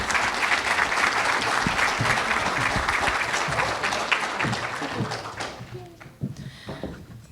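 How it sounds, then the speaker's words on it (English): A crowd at the 2025 Athletic Hall of Fame ceremony applauds loudly and steadily, then the clapping thins out and tails off into a few scattered claps. "So let's give one more round of applause for our 2025 Hall of Fame class"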